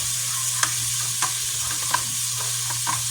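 Garlic and red pepper flakes fry in a pan for a chicken parm sauce, a constant close sizzle broken by a few sharp clicks of stirring, with a low steady hum below.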